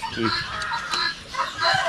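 Chickens clucking and calling in a farmyard, several short squawks and clucks repeating over a steady outdoor background, fairly close and moderately loud.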